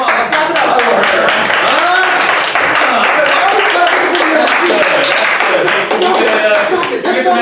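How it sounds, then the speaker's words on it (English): A small audience claps for a woman, quick sharp hand claps scattered and overlapping, with people talking and calling out over them throughout. "let's clap it up for her."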